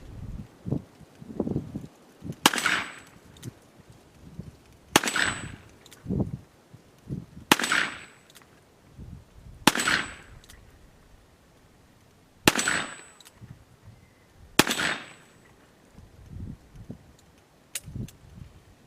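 Six loud, sharp gunshots from a Colt Python .357 Magnum revolver with a 4-inch barrel, loaded with 148-grain soft points, fired at an even pace about every two and a half seconds, with quieter handling clicks between shots.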